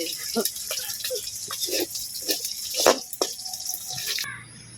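Water drips in irregular plinks, a steady scatter of small drops close by over a constant background hiss, ending abruptly.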